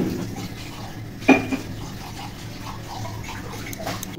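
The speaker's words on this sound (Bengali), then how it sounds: "এখন মেয়ে এদিকে অল্প বাসন ধুয়ে নিচ্ছে" A few dishes being washed by hand in a home kitchen at night, with a sharp clink of crockery in the middle and quieter rattles and water sounds around it.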